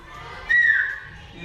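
A whistled language, such as those of the Canary Islands or the Turkish village of Küskoy, heard as one loud, clear whistled phrase that rises and then slowly slides downward, lasting under a second over faint background murmur.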